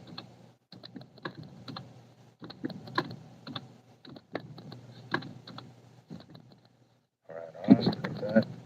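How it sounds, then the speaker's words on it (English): Someone types on a computer keyboard in irregular bursts of clicks and taps with brief pauses, close and moderately loud, and a voice speaks briefly near the end. "I was messing with the keyboard and doing that"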